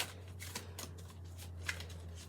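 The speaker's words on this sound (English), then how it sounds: "I literally just shuffled" A deck of tarot cards is shuffled up close: rapid papery riffles and soft slaps come in quick bursts over a faint low hum, with no talking.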